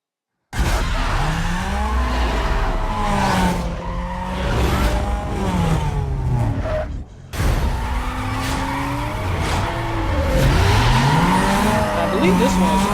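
Race cars speed through a sprint race in the video game Need For Speed: Most Wanted, loud engine roars rising and falling with gear changes and tire squeals, cutting out briefly near the middle before resuming.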